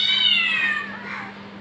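A cat gives one drawn-out, close meow that slides downward and fades, with a steady low electrical hum underneath and no talking.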